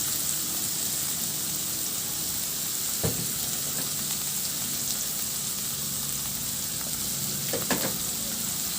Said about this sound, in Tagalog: Kunting halo lang din hanggang sa matunaw lang din yung asin at paminta.